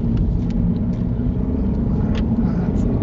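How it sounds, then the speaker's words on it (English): A car approaches along a road during a UK mock driving test, heard as a steady low rumble of engine and tyre noise from inside a vehicle. "there's a car coming there"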